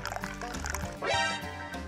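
Water pouring into a glass as a cartoon sound effect, a short rising liquid fill that swells in the middle over a background of music or effects.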